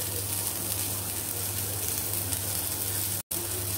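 Tomato and cluster beans sizzle steadily in a hot pan, a continuous broadband crackle under a low hum, with one brief dropout near the end.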